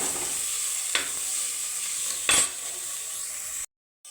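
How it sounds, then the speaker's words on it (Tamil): Beetroot sautéing with tomato and chili in a pan: a steady hiss of frying with two distinct scraping stirs, then a sudden cut to silence. "தக்காளியும் மிளகாயும் போட்டு வதக்கலாம். பீட்ரூட்டை போட்டு"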